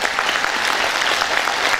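A concert audience claps steadily and densely throughout, filling the hall at a jubilee concert for a folk vocal ensemble at a culture centre.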